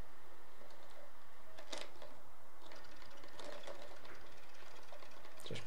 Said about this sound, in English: That's a fretting tape noise, that.